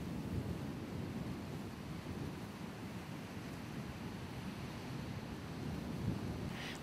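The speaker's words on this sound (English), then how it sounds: "Even though these waves are relatively small, they manage to wipe out every sign of the sand castle within 30 minutes." Small waves wash over a sand castle on a beach, making a steady, continuous rush of surf with no pauses and no voices.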